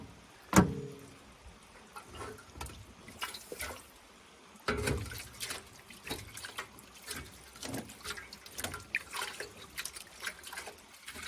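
Water sloshes and splashes in quiet bursts while gold prospecting, with scattered drips and trickles, close by and fairly soft.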